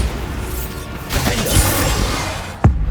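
Magic spell blasts from Hogwarts Legacy, a fire spell, an explosive curse and a blasting charm, landing as whooshing bursts and booms with a sharp crack near the end, loud and close.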